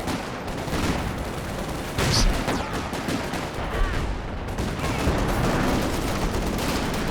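Howitzer shells and battlefield gunfire in the strategy game Company of Heroes 2 make a loud, continuous roar of blasts and rapid shots that booms louder near the two-second mark, with no break throughout.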